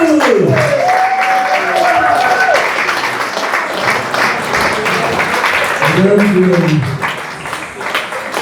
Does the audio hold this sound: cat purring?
no